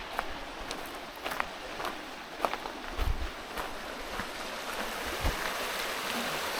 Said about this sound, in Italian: Questo è il fiume che ci sta accompagnando lungo il viaggio.